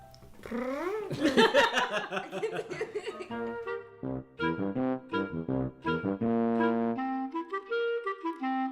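A voice imitates a purring toy cat with warbling, trilling tones and rapid fluttering pulses, close and fairly loud, with no talk over it.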